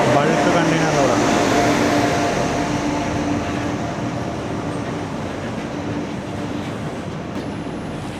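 A freight container train hauled by a WAG-9 electric locomotive passes on the adjacent line, heard from inside a moving passenger coach as a loud, steady rumble and roar with faint rhythmic clatter that slowly eases.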